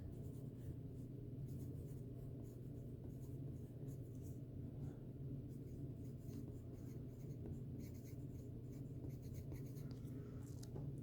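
Faint, steady scratching of a pencil on paper continues throughout, quiet against a low background hum, with no talking.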